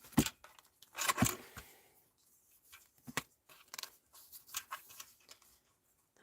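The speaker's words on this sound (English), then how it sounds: "I'm just going to snip that little bit off that bit." Small sharp snips come from scissors trimming a little piece off a handmade stamped card. They arrive in a few short, close bursts separated by quiet gaps, soft and crisp with nothing else in the room.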